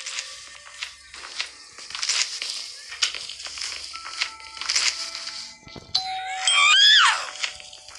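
A doorbell in the video game Schoolboy Runaway rings several times, producing short tonal dings and a warbling chime near the end, with a player talking excitedly throughout.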